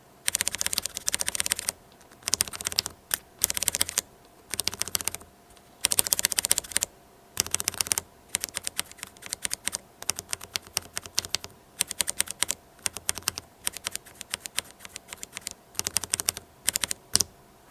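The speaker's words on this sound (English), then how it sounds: "You can hear it's a little bit sandier sounding, a little more gritty, plastic grinding" Regular unlubricated mechanical keyboard switches clatter in long, busy bursts of close typing-like clicks with short pauses between runs, sounding gritty and scratchy like plastic grinding; no voices.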